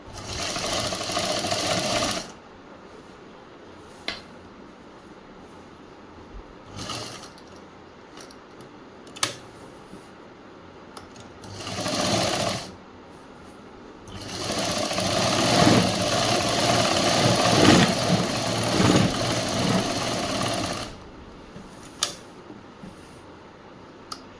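Sewing machine stitching the edge seam of a school uniform chudi top, running in several separate bursts of steady whirring with short pauses and light clicks between them, close and fairly loud.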